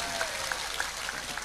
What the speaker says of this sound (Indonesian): Tepuk tangan untuk Mas Charlie.